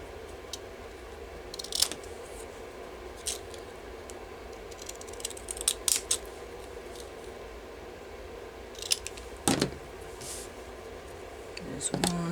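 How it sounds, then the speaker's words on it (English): Faint, scattered crisp snips of decorative scissors cutting through paper, spread out irregularly over a quiet room background. "now I'm going to take a pair of decorative scissors"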